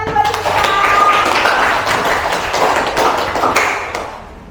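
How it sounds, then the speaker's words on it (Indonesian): A classroom bursts into applause for a student, a dense burst of clapping hands that swells quickly and then tapers off over a few seconds. "tepuk tangan buat Junita"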